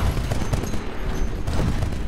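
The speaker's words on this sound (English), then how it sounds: "I'm just going to fire the rockets back" Rockets firing in Titanfall come as a continuous dense barrage of booming blasts, loud and close, with no voices.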